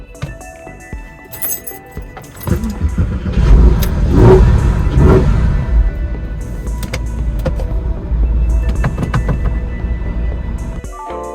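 A Porsche 911 996 engine cranks and fires, then settles into a loud, steady idle with a few revs rising near the start, close up and with no talking.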